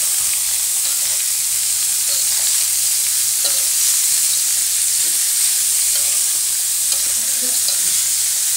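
Young papaya stir-fry is stirred in a pan, giving a loud, constant sizzle broken by repeated scraping strokes of the spatula close by.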